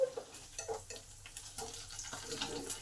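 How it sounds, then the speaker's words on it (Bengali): Pabda fish frying in oil in a pan over low to medium heat, a soft continuous sizzle broken by clinks and scrapes as the pieces are turned and stirred, fairly quiet with no talking. "মাছগুলো উল্টে পাল্টে ভাজতে হবে।"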